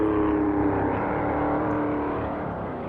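A Pontiac stock car races on the Daytona Beach road course in 1957, its engine a continuous loud whining roar that fades slightly toward the end, with no talking.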